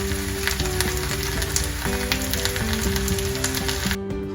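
Korean vegetable pancakes fry in a pan with a steady, loud sizzle and crackle that runs the whole time, with a low steady hum underneath and no talking.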